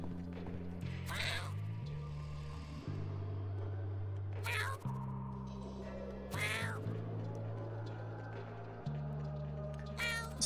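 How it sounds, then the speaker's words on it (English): A cat meows several times in drawn-out, wavering cries spaced a few seconds apart, heard close over a steady low musical hum. "This cat's starting to sound like Artemis, which is Shakti's cat."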